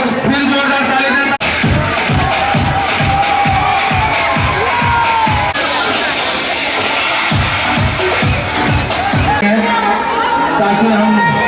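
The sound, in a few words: audience giving loud applause at school fair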